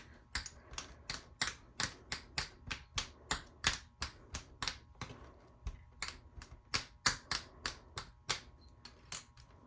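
Scrap polymer clay being cut into pieces with a blade, a quick run of sharp, evenly spaced clicks and taps close by, about two per second.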